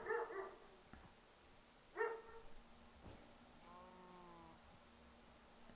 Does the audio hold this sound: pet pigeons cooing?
no